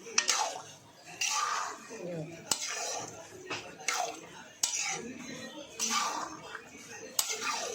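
A spoon scrapes and clinks against a pot while boiled cluster beans are mixed into gravy, repeated sharp metallic taps and stirring over a soft background, with a voice talking at times.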